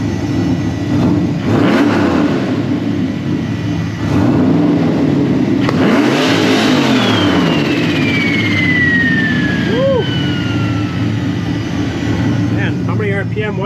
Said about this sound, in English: Let's give it a couple of revs from in the cab,